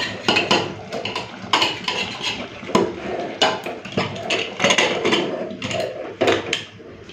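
A lid being set onto a pot of Bengali chicken kosha spiced with garam masala, cardamom and cinnamon, making a run of close metallic clanks and scrapes in an uneven rhythm with no talking.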